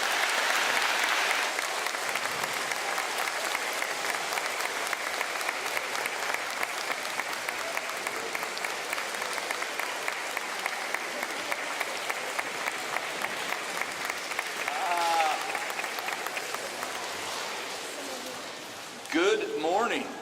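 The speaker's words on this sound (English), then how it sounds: "Let's give him a nice round of applause." A crowd in Indiana applauds the governor at an early literacy funding announcement, sustained dense clapping for nearly twenty seconds that fades toward the end as a voice begins speaking.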